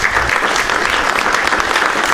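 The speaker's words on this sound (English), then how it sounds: "everyone give a round of applause for all of you that asked great questions and for Destiny himself for coming on out" Steady, dense audience applause at a campus debate event with Destiny, a loud crowd clapping throughout with no pause.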